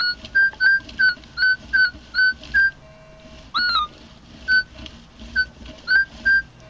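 Metal detector signal tone over an iron target, a series of short chirping beeps with one warbling, rising blip partway through, close and clear with no talk.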